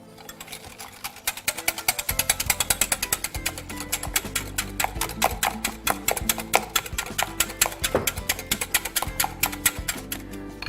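Eggs being beaten in a bowl for molten lava cake, a fast rattling clatter that starts sparse and builds into a dense, steady run of rapid beats, with no talking.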